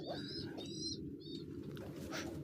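Pigeons kept in a loft give soft, low cooing with a few brief higher chirps over a constant background hum.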